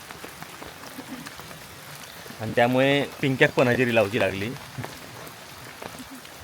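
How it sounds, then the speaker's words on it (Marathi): Sudden monsoon rain in Konkan patters steadily on surfaces as a continuous hiss, with a person talking over it midway. "पावसानं अचानक हजेरी लावल्यानं"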